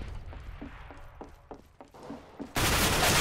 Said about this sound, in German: Hier sind Schüsse noch.